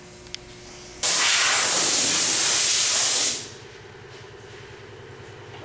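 A strong burst of compressed air blows off a metal aircraft wing before priming, a loud steady hiss starting abruptly, holding for about two seconds, then tapering away to quiet room noise.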